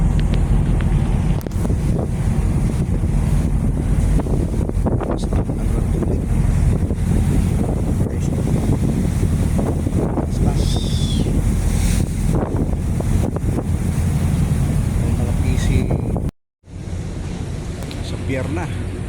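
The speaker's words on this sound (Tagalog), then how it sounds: "Mahaba itong barko na ito." Wind and sea waves on a large passenger ship travelling from Caticlan to Batangas: loud, constant wind buffeting the microphone over rushing water, with a brief dropout near the end.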